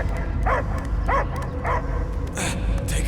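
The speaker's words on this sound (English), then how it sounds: "I hear only barking" Dog barks voiced within a Marvel's Guardians of the Galaxy game scene, three or four short yelping bursts spaced about half a second apart over a steady low rumble of music and ambience, with brief higher chirps near the end.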